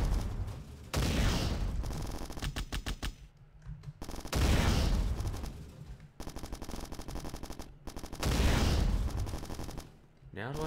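The main gun fires in Bad Bots, in long rapid automatic bursts of loud, close gunfire broken by short gaps, with game music and effects running beneath.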